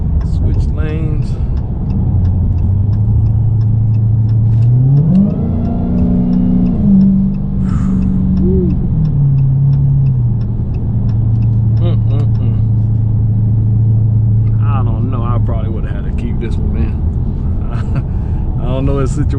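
A 2019 Dodge Challenger Hellcat Redeye is heard from inside the cabin while driving, its low engine drone climbing in pitch under acceleration, then settling into a steady cruise hum with road rumble.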